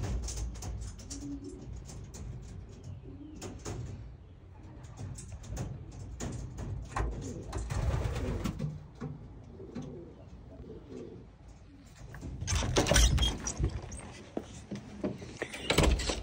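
Racing pigeons coo and flutter in a loft, soft throaty calls repeating close by over a steady low rumble, with louder bursts of wing and movement noise near the end.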